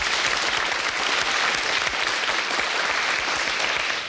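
A studio audience at a French literary talk show applauds steadily and fairly loudly throughout, a dense wash of many clapping hands with no voices over it.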